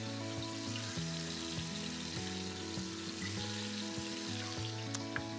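Turkey necks brown in a hot pan, giving a steady, continuous sizzle and crackle at close range, with no one talking.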